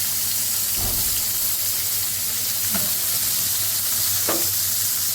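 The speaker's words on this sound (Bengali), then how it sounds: "আর টমেটো চাল টমেটোগুলো ভেজে নেব" Tomatoes frying in leftover oil in a home kitchen pan, a constant dense sizzle and hiss throughout, with a few faint stirring knocks and no talking.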